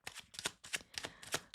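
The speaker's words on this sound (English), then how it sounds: "I'm going to pull one more set of cards here" Tarot cards being shuffled in a quiet room during a reading, a rapid series of soft papery riffles and flutters in several bursts, close and fairly faint, with no talking.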